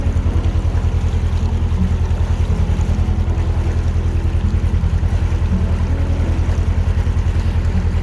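A canal boat cruises steadily on a sunny afternoon, its engine a loud, close, rhythmic low chug that runs unbroken throughout, with faint water and wind noise above it.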